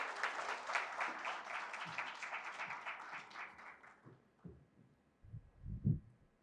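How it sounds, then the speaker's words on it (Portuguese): Applause at a professional councils panel session, a fairly faint, steady patter of many hands clapping for several seconds that tapers off, followed by a few low thumps and rustles. "Pedimos uma salva de palmas."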